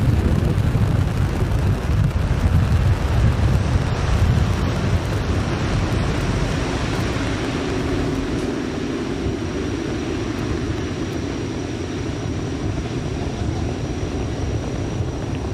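A SpaceX rocket's first-stage engines roar during launch on the Fram2 polar human spaceflight mission, a loud, dense, unbroken rumble lasting the whole stretch, easing slightly about halfway through, with no voices over it.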